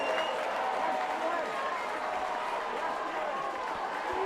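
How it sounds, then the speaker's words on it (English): USA supporters, many of them parents, cheer and applaud steadily from the stands at a junior ultimate frisbee final against Canada, with a commentator talking over the crowd. "USA supporters in the crowd going wild"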